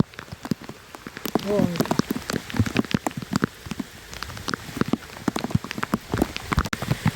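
Heavy first-of-the-monsoon rain falls in a village, with dense, irregular drops pattering and splashing close by on a hard surface in a steady downpour.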